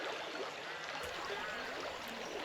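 The sandy River Parrett flowing steadily, a dense broadband wash of moving water with no voices, loud and continuous throughout.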